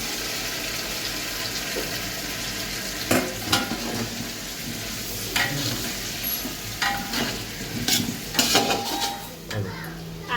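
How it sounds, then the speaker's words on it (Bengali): Potatoes and onions fry in oil while being stirred, with an ongoing sizzle broken by repeated scraping and clinking of a utensil against the pot, moderately close with irregular bursts. "এখন আমি আলুগুলো এই পেঁয়াজের মধ্যেই দিয়ে দেবো"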